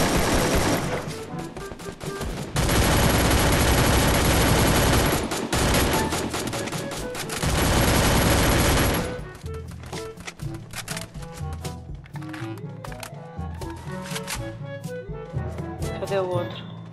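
Nearby players firing in a shooter video game: long, loud, dense bursts of automatic fire fill the first nine seconds, then scattered shots and clatter continue more quietly under game noise and brief voices.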